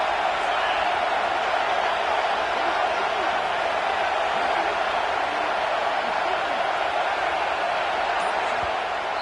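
A dense, steady crowd roar from a large stadium audience at an Ohio State vs Penn State college football game, cheering continuously on a big third down, holding constant without distinct peaks.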